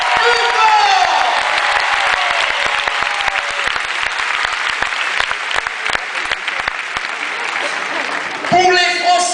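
Crowd at a France–Japan karate event in Rouen applauding the Japanese coaching staff, dense sustained clapping with some cheers, a voice audible at the start and another speaking briefly near the end.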